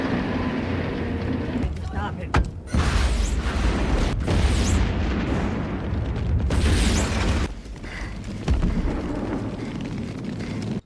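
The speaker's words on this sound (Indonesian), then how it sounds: "masih kaget oleh ledakan truk ini" A German supply truck blows up in a war-film battle scene in the Hürtgen Forest: heavy booming blasts and rumbling, loud and dense, with sharp bursts breaking through a continuous roar.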